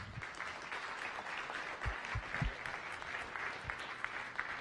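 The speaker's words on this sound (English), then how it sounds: "Give her a round of applause." Audience applause closing a science cafe talk on drug addiction, a thin, steady patter of clapping from a modest crowd at moderate distance, with no voices over it.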